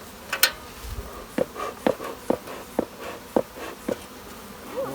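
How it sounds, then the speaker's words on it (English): Honeybees buzz in short, repeated bursts as they fly close past a hive entrance, roughly twice a second, against a quiet outdoor background. "See where the bees are coming in and out here? Wow, that's a lot of bees."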